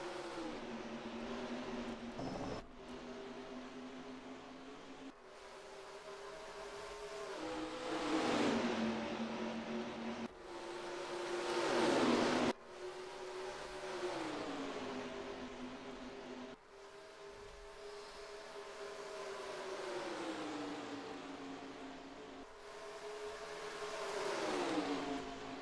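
Race cars at Las Vegas Motor Speedway in NASCAR Racing 2003 take the green flag, engines surging and revving in repeated rising and falling sweeps as the field accelerates, loud and continuous without talk.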